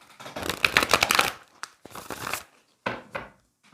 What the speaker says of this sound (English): I want to give this a good shuffle.